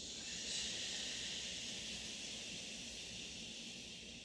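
A long, soft breathy hiss like air pushed out through the teeth on a 'ch' sound, steady and close, fading slightly toward the end.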